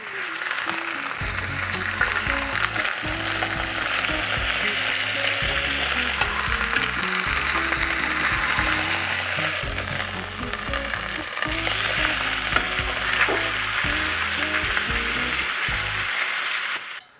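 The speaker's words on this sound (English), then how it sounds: "Our meat is done browning" Ground meat browns in a hot pan for crockpot Philly cheesesteak sandwiches, a steady, loud sizzle and crackle running continuously for the whole stretch with no talking.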